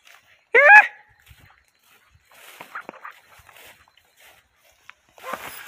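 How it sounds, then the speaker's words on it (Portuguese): A hunting dog chasing an armadillo through the brush gives one sharp yelp up close, then faint rustling and scattered movement follow in near quiet, with a little soft talk. "o cachorro já pegou um tatu aí e já tá correndo"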